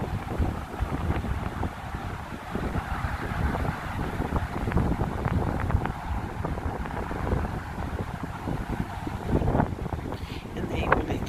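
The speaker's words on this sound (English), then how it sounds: "We also have a storm coming in, and it's getting pretty windy." Strong wind buffets the microphone in a park as a storm moves in, a continuous rough roar with gusty crackles throughout, and a voice faintly audible beneath it.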